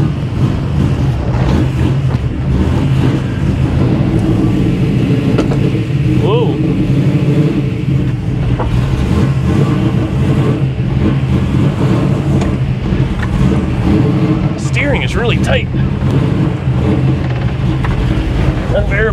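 A 1967 Camaro with a four-speed manual driving, a loud, constant engine drone with deep low rumble close inside the car, occasional clunks and shifts, and someone talking over it.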